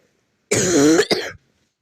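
One person gives a single harsh, close cough with a throaty rasp that breaks into a second short burst, then silence.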